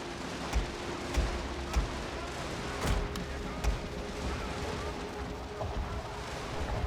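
Cannon and musket fire roll across a Total War battlefield: a series of distant booming shots at irregular intervals, about six or seven, over a steady rumbling battle bed, fairly faint.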